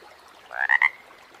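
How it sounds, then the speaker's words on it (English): A frog croaks three times in quick succession, short rhythmic pulses against a quiet background. "I hear a frog."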